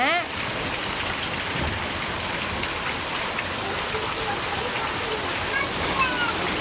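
Heavy rain falling steadily with water running and pooling around a house, a loud continuous hiss of drops on surfaces with faint voices in the background.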